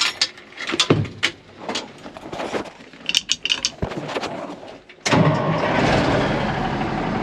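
An old Ford water truck engine cranks with bursts of mechanical clatter, then catches at about five seconds and settles into a loud, steady running roar close by.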